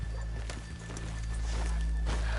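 Horse hooves clip-clopping at a walk in Red Dead Redemption 2, with a brief whinny over a steady low ambient hum of the game world; no talk.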